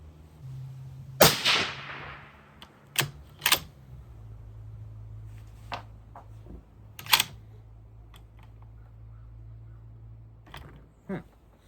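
A 7mm-08 Ackley Improved rifle firing a 153-grain Hammer Hunter load, a single sharp report at a range followed by several clicks and clacks as the bolt is cycled, with quiet breeze noise between.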